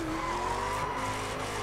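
A Corvette ZR1 in the racing video game The Crew skids, its tires giving off a loud, sustained squeal that slides slightly in pitch over a continuous engine drone.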